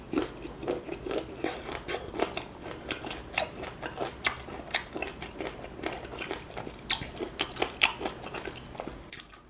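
Crunchy bites and steady chewing of small, sour baby green mangoes eaten close to the mic, with irregular crisp crunches running continuously through the clip and no talking.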